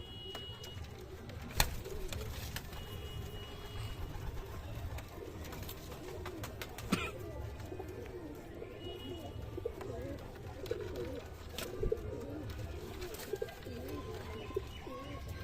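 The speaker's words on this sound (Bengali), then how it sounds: "খুবই স্বল্প মূল্যে ছেড়ে দেবো পায়রাগুলো" Pigeons coo in a home loft of black-green and full-feathered birds, with soft, overlapping low calls throughout and scattered clicks and flutters, fairly quiet and close by.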